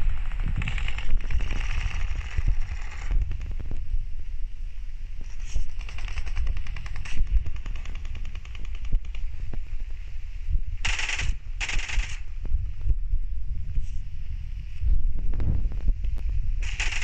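Gunfire in a PUBG-style battle royale game, repeated rapid bursts of shots, some close and loud, over low wind-like background noise.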